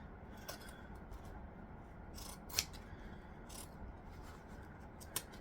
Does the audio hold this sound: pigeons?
no